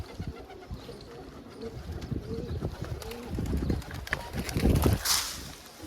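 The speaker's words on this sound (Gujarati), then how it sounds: "જો ચાર કબૂતર આવ્યા છે" Soft coos from four pigeons come through amid rustling and outdoor clatter, with a louder burst of flapping or scuffling near the end.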